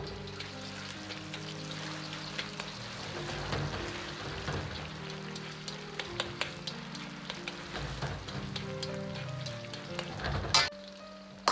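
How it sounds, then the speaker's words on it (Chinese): Marinated shredded pork for Peking-style sauce pork (jing jiang rou si) sizzles steadily in oil at moderate heat in a wok, a continuous crackling fry with scattered pops and light stirring clinks, no talking. "保持中火，下入腌好的肉丝"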